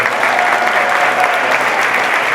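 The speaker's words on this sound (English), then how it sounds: "we'll recognize them with a round of applause" Steady loud applause from an audience honoring elementary school staff at a professional development day, dense clapping throughout with no pauses.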